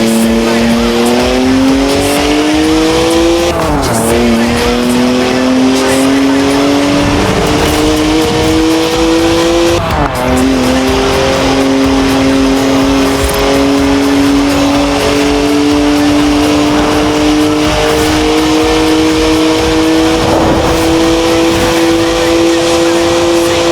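In Forza Horizon 4, a BMW's engine screams at high revs in long sustained pulls that dip briefly on gear changes, with faint tire noise beneath. It stays loud and continuous while a voice talks over it.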